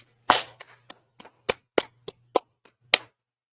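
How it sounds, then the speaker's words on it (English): An audience claps in a newsroom setting, about a dozen sharp separate claps spread unevenly over a few seconds, loud and close against silence. "All right, clap it up."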